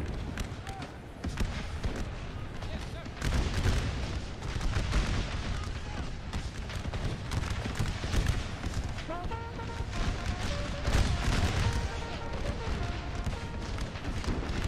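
Dense musket volleys and artillery fire in a Napoleon Total War American Civil War Gettysburg mod battle, a continuous crackling roar with repeated booms and faint voices mixed in throughout.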